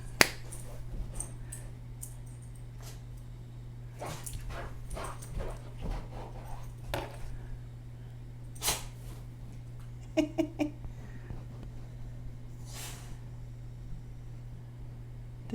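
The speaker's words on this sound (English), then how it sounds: "You probably hear my dog sneezing right now." A dog sneezes indoors: a few short, sharp snorting bursts scattered over a steady electrical hum, fairly faint and with no talking.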